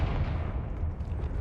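Confringo fire spell blast in Hogwarts Legacy, heard as a dense, loud, sustained roaring burst with heavy low rumble, continuous through the moment like gunfire-like crackle.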